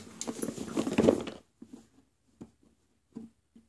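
A dog whimpers and whines close by, a longer noisy burst followed by several short, soft whines spaced apart.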